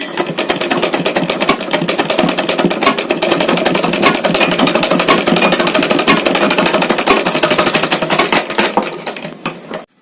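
A sewing machine stitches a denim bag made from old jeans, a fast, rapid clatter of needle strokes that runs loud and steady for about ten seconds before stopping abruptly.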